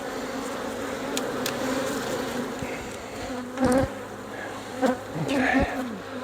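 Bees buzz steadily and close by, a dense droning hum with a few louder passes as individual insects fly near.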